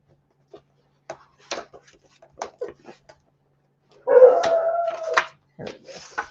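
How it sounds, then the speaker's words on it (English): A dog barks in short, scattered yips and woofs, then lets out a longer drawn-out howling bark before a few more quiet barks; nearby and moderately loud. "I don't know what he's barking at."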